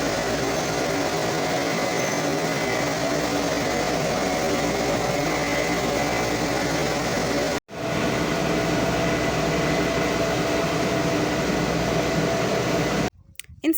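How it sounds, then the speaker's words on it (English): A posho mill milling rice runs with a loud, steady mechanical roar and whine, constant and close, broken by one brief dropout and a sudden cut near the end. "Inside the posho mill, there is too much noise, such that even you can't hear what the other person is saying due to this machine operating"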